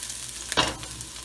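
Onions sizzle in a hot pan while a spoon sweeps through them once, giving a brief scraping stir that swells over the steady, quiet frying hiss.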